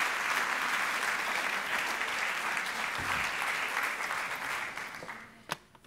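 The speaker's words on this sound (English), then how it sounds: "A big round of applause for Su Yen," An audience applauds a volunteer at a magic show, with a dense, lively round of clapping that stays strong for several seconds before tapering off and ending with a single sharp knock.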